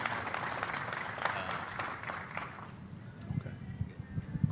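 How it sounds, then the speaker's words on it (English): Audience applause at a college football championship press conference in Tampa Bay, a steady patter of clapping from a moderate crowd that fades partway through, followed by lower murmuring and room noise. "let's give a round of applause to Rich"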